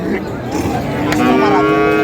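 A bull moos loudly and close by at a livestock market, one long low call swelling over faint background noise.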